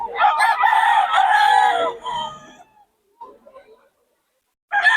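Lemon sweater gamefowl rooster crowing at a Bocaue market, one long loud close crow followed by a short trailing call, then brief faint sounds and the start of another loud burst.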